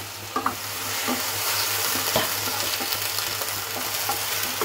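Spices and tomato for a light hilsa fish curry are sautéed in a pan, giving a steady, close sizzle with repeated scraping stirs and a few sharp clicks of the utensil.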